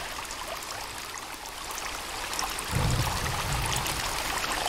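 Flowing water in the survival game Sons of the Forest, a steady broadband rush like a stream that swells slightly louder partway through, heard alone with no talk.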